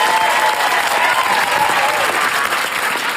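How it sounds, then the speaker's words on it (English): Studio audience applause, a steady dense wash of clapping at full strength throughout, with some faint voices mixed in. "Big round of applause for Sarah."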